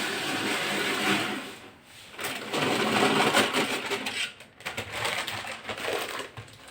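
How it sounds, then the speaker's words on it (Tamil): A new packet of salt is poured into a container at home, a steady, close, granular hiss and rattle that thins and surges as the flow varies. "பழைய உப்பு வெளியில் வச்சுட்டு புதுசாக வாங்கிட்டு வந்திருக்கேன். இதை கொட்டிடுவோம்."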